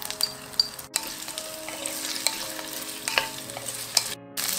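Onion stir-frying in vegetable oil in a clay pot along with scallion, ginger and garlic, a close, bright sizzle with light scraping clinks and a couple of brief cutoffs.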